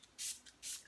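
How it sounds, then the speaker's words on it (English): A spray bottle of Bluebell Bridge mist is pumped twice, giving two soft close hissing bursts with a quieter puff between them. "I'm spraying Metatron's Bluebell Bridge"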